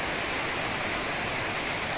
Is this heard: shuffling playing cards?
no